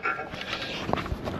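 A dog pants close by in rapid, fairly steady breaths on a rough outback road trip toward Cameron Corner, with one brief sharper sound partway through and no talk.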